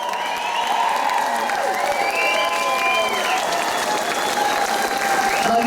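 A bar crowd applauds and cheers loudly and continuously, dense clapping mixed with whoops and scattered voices filling the room.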